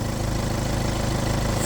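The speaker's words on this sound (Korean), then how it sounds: "디젤 일반 차량 뭐 대부분 이런 소리가 뭐 난다고 할 수 있겠는데, 이런 소음 또 엔진 소리" A Kia Carnival diesel engine idles with a steady, loud, rough rumble and no breaks.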